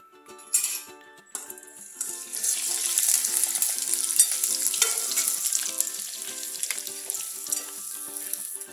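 Veg manchurian balls deep-fry in very hot oil for a restaurant-style gravy manchurian, a few clinks at first, then a loud, dense, continuous bubbling sizzle held close, with a faint background voice at times.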